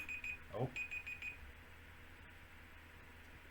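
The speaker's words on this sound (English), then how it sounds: "alarm went off" A digital alarm beeps in quick high-pitched bursts for about a second and a half, then stops, with a brief exclamation from a voice as it sounds.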